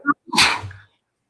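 A single sharp sneeze bursts out close by, a short intake followed by a loud explosive release, then silence.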